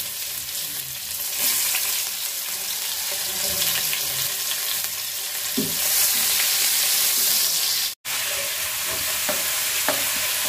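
Onions sizzling and frying steadily in hot oil for a hilsa fish and taro curry, a loud, close, continuous crackle with occasional stirring scrapes and a brief dropout.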